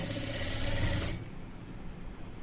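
A home sewing machine runs a seam along a folded edge of cloth for a beginner's pant-stitching job, whirring steadily for about a second before it stops and leaves a quiet room.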